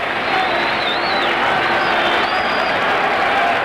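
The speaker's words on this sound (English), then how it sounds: "Huge crowd on hand." A huge baseball crowd roars and cheers steadily at a New York Mets postseason game against the Pittsburgh Pirates, dense and continuous throughout with whistles rising above it and no pause.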